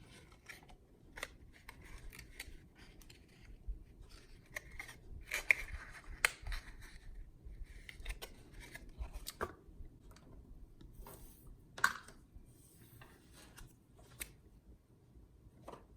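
Scissors cut cardstock while making a small paper gift box, giving a series of quiet, irregular snips and crisp paper rustles in a calm room.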